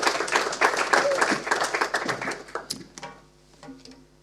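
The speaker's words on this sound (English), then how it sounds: "So, warm round of applause, thank you." Conference audience applauding as a sponsor speaker is called to the stage, dense clapping for about three seconds that thins out and fades near the end.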